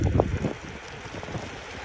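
Wind buffets the microphone and rain patters during a ride on a Ranger X3 in wet weather, a steady rushing noise with scattered soft thumps and no voices.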